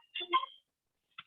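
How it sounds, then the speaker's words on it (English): A mobile phone ringtone plays two quick chirping bursts, then a short third chirp after a pause, heard alone and fairly quiet. "Oh, that was my phone."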